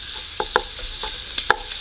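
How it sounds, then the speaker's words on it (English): Minced garlic hitting hot pork grease in a pan for a chili bamboo pork stir fry, a soft bed of sizzling with a few quick stirring clinks, close and without talk. "let's go in with the minced garlic."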